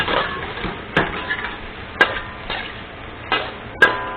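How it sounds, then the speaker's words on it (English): Garlic and zucchini are stir-fried in a pan over medium-high heat: a soft steady sizzle under sharp, irregular clacks and scrapes of a utensil against the pan, about five distinct knocks, with no talking. "Now start to stir fry the garlic"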